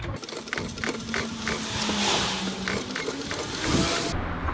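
A car jack raises an Audi TT Mk1, giving close mechanical ratcheting clicks in a repeated rhythm with a light metallic whir, heard alone without talk.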